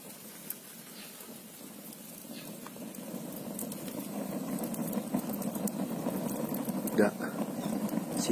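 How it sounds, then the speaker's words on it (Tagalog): Water with pork bubbles and seethes in a pot at a rolling boil, with a gurgling patter that gradually grows louder; a voice speaks briefly. "Kumukulo na talaga siyan guys."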